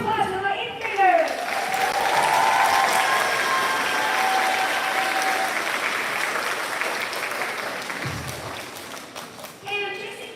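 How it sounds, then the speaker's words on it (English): A school audience at a middle school spring concert applauds eighth grade band players, a full, sustained round of clapping that swells in and holds steady for several seconds, with voices and some stage noise at the edges. "So one more round of applause for my eighth graders."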